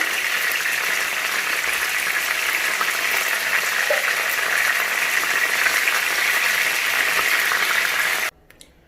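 Steady, dense sizzling of fish frying in hot oil, a constant crackling hiss that runs evenly for several seconds, then cuts off abruptly.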